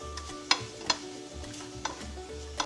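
Fish cakes stir-fried in a pan with sesame oil, spring onion and green chili, a soft steady sizzle with a few sharp scrapes and taps of a utensil against the pan.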